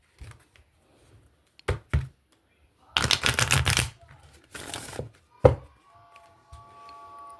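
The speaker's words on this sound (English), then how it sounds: "I'm going to shuffle this one more time" A deck of tarot cards being shuffled, with several distinct bursts of riffling and flicking separated by short pauses and a few sharp taps, close and fairly loud with no talking.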